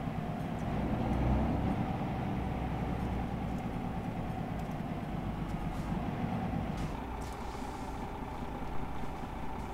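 A train passes through the city of Sarajevo, a low, steady rumble of wheels and engine heard from a distance, fairly quiet and without talk.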